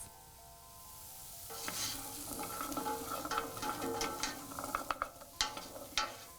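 Chopped carrots sizzling in a hot pan, a steady crackling fry with stirring scrapes and clicks that grow busier and louder, no talk.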